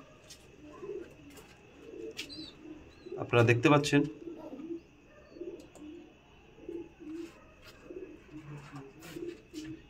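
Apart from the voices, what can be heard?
pigeons cooing in a loft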